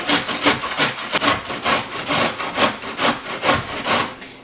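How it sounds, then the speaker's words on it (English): Cabbage being grated by hand on a grater for sauerkraut, a steady run of loud, rhythmic rasping strokes, about two per second, close up with no talk. "It's a little bit difficult because the cabbage might want to fall apart, but basically just grate it."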